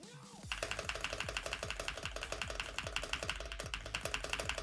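Rapid, steady clicking of a computer keyboard played in Geometry Dash, a fast even rhythm of close, crisp key presses sustained throughout after a brief quieter start.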